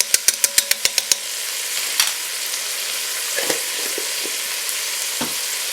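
Minced garlic, about three teaspoons' worth, fries in a pot for a beef and bean cabbage stew, opening with a quick run of sharp knocks before a steady broadband sizzle with scattered scrapes and clinks as it is stirred.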